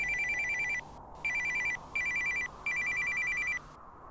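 A telephone bell rings in repeated bursts with short gaps between them, loud and close, with steady background hiss.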